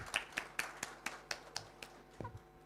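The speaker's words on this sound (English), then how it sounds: "Everyone give them a huge round of applause." Sparse, scattered claps from an audience at a ceremony in an indoor hall, about a dozen distinct hand claps in an uneven rhythm, fairly faint and fading out.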